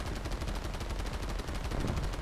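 Rapid 20 mm cannon fire from a Bf 109 fighter plane in an aerial combat game, a dense, continuous, loud stream of fast, evenly spaced bursts.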